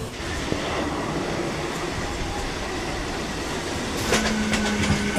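An Arambagh–Howrah local train rumbles steadily past with continuous wheel and carriage noise, joined near the end by a brief higher squeal and a louder burst.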